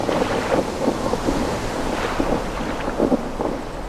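Storm at sea in Neverwinter Nights 2: a steady roar of wind, rain and churning waves fills the scene, with soft rumbling swells of thunder rising and falling throughout, no voices.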